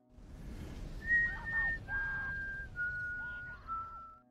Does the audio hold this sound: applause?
no